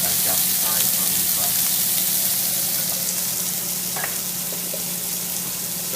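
Squash stir fry with layered seasoning and thyme sizzling loudly and steadily in a hot pan, with occasional stirring clicks and scrapes throughout.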